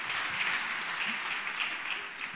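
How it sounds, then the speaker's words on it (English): Sustained applause from a gala audience, a dense even patter of many hands clapping that holds steady throughout. "it's okay to clap now."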